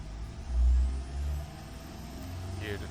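Small eco-tuned turbocharged engine in a 2005-style eco sedan from the Automation game, a low droning idle that swells in a brief rev early on, then settles into a steady hum.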